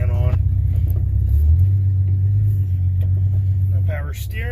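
A car engine idles steadily while warming up, one of several family vehicles being started, with a deep, even low rumble throughout and brief voices at the start and end.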